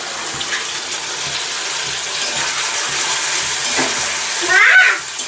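A ground paste of ginger, onion, garlic and green chili fries in a pan with already-fried onions, making a loud, continuous sizzle with bursts of stirring and scraping close by.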